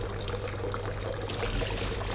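Tap water running steadily into a basin for washing up in a home kitchen, a continuous close splashing pour with no talk.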